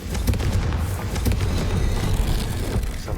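A Confringo fire spell detonates in Hogwarts Legacy, a dense, rumbling blast with crackling debris that stays loud and sustained throughout, with no voices.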